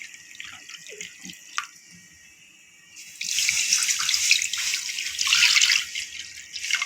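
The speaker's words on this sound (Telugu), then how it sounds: "ఈ విధంగా వాటర్ పోసుకుందాం." Water pours steadily into a basin for homemade kurkure dough, starting with scattered drips and light splashes, then swelling into a loud, continuous gush that runs to the end, with no talk.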